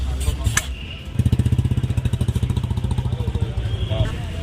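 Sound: motorcycle engine

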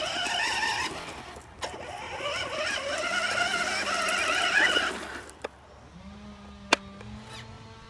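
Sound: RC truck running

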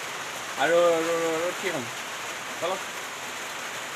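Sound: heavy rain falling

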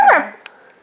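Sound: dog whimpering and crying

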